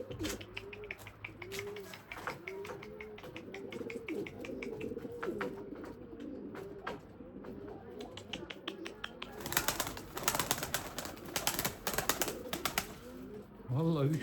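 Limoni breeding pigeons coo in repeated throaty phrases close by, with clattering and wing flaps growing busier toward the end, while someone speaks Turkish at times.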